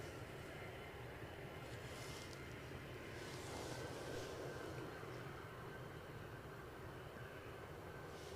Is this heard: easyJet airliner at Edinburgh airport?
yes